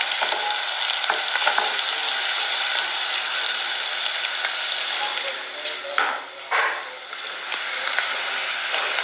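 Chicken frying in a pan, a steady broadband sizzle with scattered clicks and scraping from stirring throughout, briefly dipping and shifting near the end.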